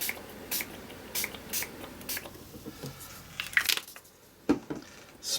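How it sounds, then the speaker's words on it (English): Several short hissing spritzes from a spray bottle of broken china oxide spray, spaced irregularly, close to the listener, with faint handling noises between. "grab that broken china oxide spray again"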